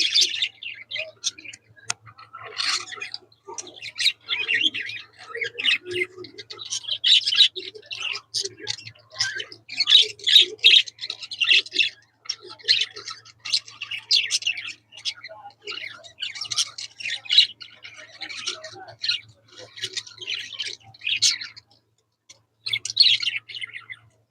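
Budgerigars chirping and chattering in quick, bright bursts close by, busy and irregular, with a faint steady hum beneath and brief pauses.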